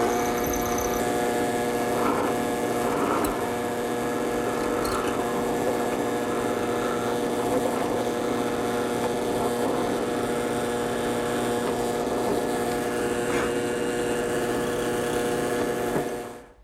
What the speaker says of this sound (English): that'll position the leg correctly under the drill press